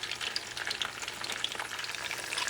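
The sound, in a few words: frying cod-stuffed ripe plantains (piononos) in oil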